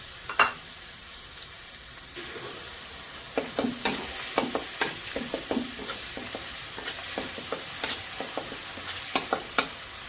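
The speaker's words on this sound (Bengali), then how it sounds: "আদা রসুন একটু ভাজা ভাজা হয়ে গেছে" Ginger garlic paste frying in oil with whole spices for kosha chicken, a steady sizzle with repeated sharp spatula stirs and scrapes against the pan, close and moderately loud, no talk.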